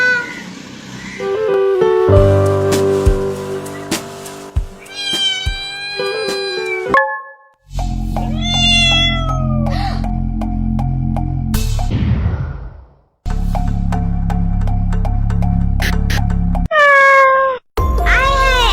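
Several cats meow loudly and close by on a building stairway, drawn-out rising and falling cries repeated over and over, with short pauses between bursts.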